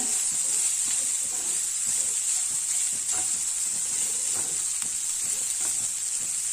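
Carrot rice being gently stirred in a pan over low heat, a steady soft hiss and sizzle with faint repeated scraping strokes of a spoon, close and continuous without any talking.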